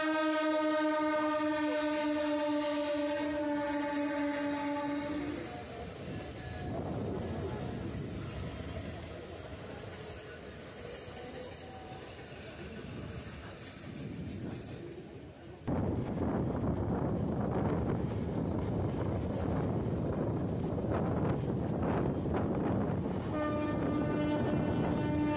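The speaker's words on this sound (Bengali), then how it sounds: "সামনে থেকে আসছে খড়গপুর লোকাল।" An oncoming Kharagpur local train on the Howrah–Midnapore line sounds a long horn, then passes with a loud, sustained rumble and rattle of wagons, and its horn sounds again near the end.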